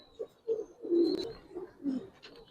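Several Giribaz pigeons give a series of short, soft coos close by, one rolling coo swelling louder in the middle, with faint higher chirps above.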